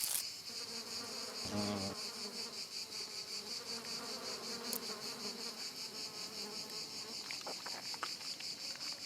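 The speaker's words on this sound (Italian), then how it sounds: "Le cetonie, grandi coleotteri verde smeraldo, ne approfittano subito." Rose chafer beetles, large emerald-green insects, feed on sap oozing from a wound in a cork oak trunk in summer Tuscan countryside, set within a dense, steady insect buzz and chirring, with a brief louder flutter near the start.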